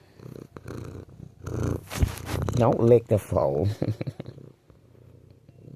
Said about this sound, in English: And thank you for that purring.